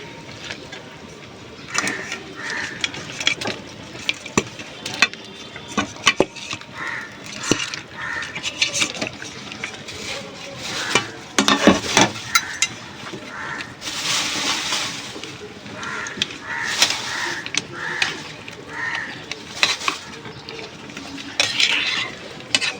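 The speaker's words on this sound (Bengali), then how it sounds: "এবং মাছের ঝালটা কিন্তু ফুটে গেছে। আমি এবার ভেজে রাখা মাছগুলো দিয়ে দেবো একে একে।" Fish curry bubbling in a pan while fried fish pieces are dropped in one by one, with repeated clinks and scrapes of a utensil against the pot and crows cawing faintly outside, continuous and moderately loud throughout.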